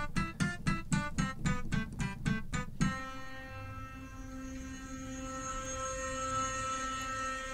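A burning acoustic piano sample: rapid repeated piano-like notes, then a single sustained, noisy, wavering tone that crackles and smears as it holds, the strings disintegrating.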